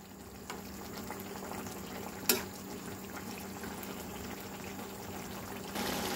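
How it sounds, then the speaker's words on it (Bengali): Tengra fish chorchori boils steadily in a pot, giving a continuous soft bubbling and simmering hiss with one brief clink partway through and no talking. "দেখো আমার কিন্তু টকবক করে ফুটছে"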